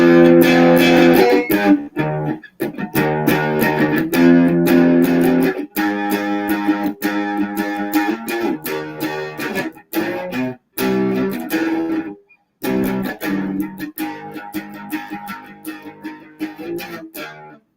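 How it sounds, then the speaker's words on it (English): An instrument played through a distortion effect gives a loud, continuous, gritty tone that cuts out briefly several times, with no talking. "I think a little bit more distortion might be good."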